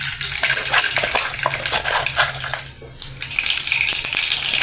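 Mustard seeds sizzling and popping in hot oil in a pan, a close, busy crackle with sharp spattering bursts throughout and no talk.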